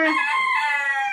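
A rooster crows once, close and loud, in a single drawn-out call.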